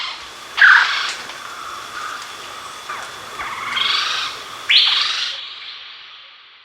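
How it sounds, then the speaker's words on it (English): Trogon bird calling in the wild in India, a series of clear, fairly loud whistled notes in spaced bursts over soft background noise, fading out at the end. "How does it sound though, a trogon?"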